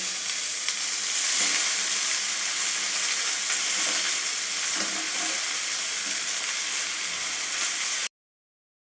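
Kolmi shak (water spinach) fries with onions and turmeric in a hot pan, giving a loud, continuous sizzle and steam hiss with a few soft stirring scrapes, close up and without talk, ending in a sudden cut.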